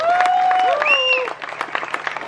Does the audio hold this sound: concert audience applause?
yes